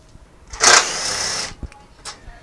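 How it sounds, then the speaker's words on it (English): Power tool spinning out a T45 Torx bolt from a plate on a Jeep JLU Rubicon, a single close whirring burst about a second long, followed by small clinks. "There are 5 T45 Torx bolts in here. I'm going to remove them now"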